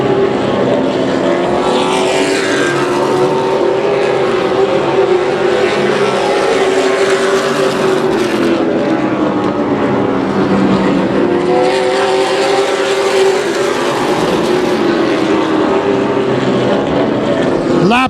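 Race cars in a late-lap feature race at Houston Motorsports Park roar past in loud, overlapping waves, with engine pitch rising and falling as the pack approaches and passes.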